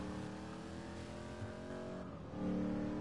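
A car engine hums and revs in a sustained tonal drone with stacked harmonics, holding steady before a pitch shift and a louder surge near the end, heard at moderate distance without talk.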